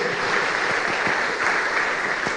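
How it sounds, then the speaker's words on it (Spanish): A church congregation breaks into dense, continuous applause. Steady clapping fills the whole stretch at full volume with no speech over it. "Dale un fuerte aplauso, mi amado"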